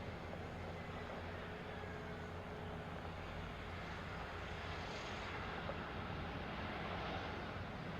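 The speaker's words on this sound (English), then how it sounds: "This Airbus A321 landed and bounced, almost resulting in a tail strike." Airbus A321 airliner landing and bouncing on the runway, a broad continuous jet engine roar with a dense rumble, heard from a distance at steady moderate loudness with no clear separate impacts.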